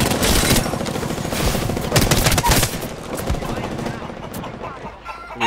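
Rapid automatic gunfire in the battle royale shooter Apex Legends rattles in dense, close bursts, loud throughout and tapering off near the end, with a player's voice mixed in.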